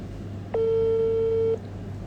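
A single outgoing telephone ring tone on an unanswered call, one steady electronic tone lasting about a second over a faint background hum, close and clear with no talking.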